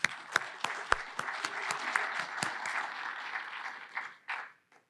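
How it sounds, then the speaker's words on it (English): An audience at a political party convention keynote claps together in a round of applause for ballot access advocate Richard Winger, with dense clapping and a few sharp louder claps that dwindle and then briefly swell before fading out. "I wanted to give Richard Winger a round of applause"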